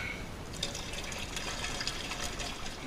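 Water poured into a homebrew fermenter for a Coopers real ale, a steady quiet splashing rush with a faint trickling texture running continuously throughout, with no talking.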